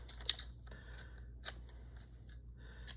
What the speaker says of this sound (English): I'll often take the Fiskars, the scissors, and I'll cut out like cleaner